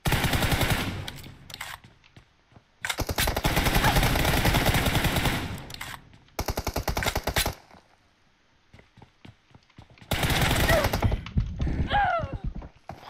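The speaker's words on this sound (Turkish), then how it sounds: "Abi hayvan gibi vuruyor." Rapid automatic gunfire in the mobile battle royale PUBG Mobile, coming in several long, loud bursts of fast rattling shots separated by quieter gaps with scattered single shots, and a voice speaks briefly near the end.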